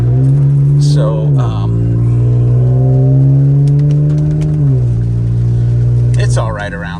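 A 2018 Toyota Tacoma with a FlowFX cat-back exhaust drones steadily from inside the cab, its engine pitch holding level then dropping at two gear shifts, loud and continuous.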